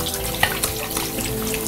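Cool water splashes as a face is washed by hand, a steady running-water hiss from a tap with small splashes and drips, close and continuous without speech.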